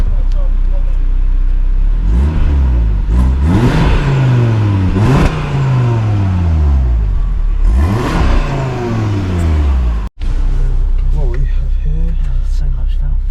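New Audi RS3 engine revving loudly and repeatedly, with several sharp rising and falling sweeps that fill most of the stretch, while people talk over it.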